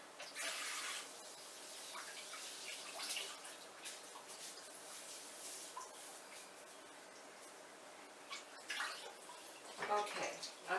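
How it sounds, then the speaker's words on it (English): Food being rinsed under running water in a home kitchen, a steady faint splashing stream with occasional louder gushes near the end. "I'm going to go give them a rinse off."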